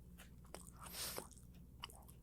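A cookie bitten and chewed up close, with a brief crunchy bite and quiet mastication noises in the stillness, no talk.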